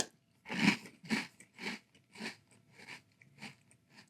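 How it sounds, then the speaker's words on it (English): Chips Ahoy cereal in milk crunched in the mouth, about eight distinct close chewing crunches in an even rhythm, each separated by brief silence. "Let's give a try to Chips Ahoy cereal in milk."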